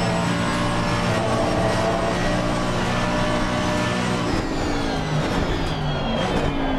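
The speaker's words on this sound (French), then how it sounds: "Et pourtant, je freine fort, je fais du dégressif, mais il n'y a rien à faire. La voiture, elle freine vraiment pas." Race car in Assetto Corsa Competizione at Silverstone: a steady loud engine roar with shifting pitch as the car brakes hard, continuous throughout with no pauses.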